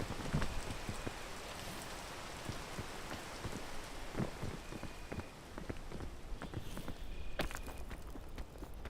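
Steady rainfall in the video game Peak patters continuously on surfaces, close and even, with scattered sharper drop hits and faint footstep-like thuds, and no talking.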